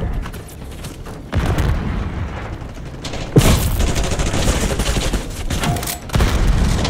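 Sustained bursts of automatic gunfire from a Kompakt 92 rattle in a shooter game on the Stakeout map, loud and close, with sharp louder shots punctuating the continuous fire.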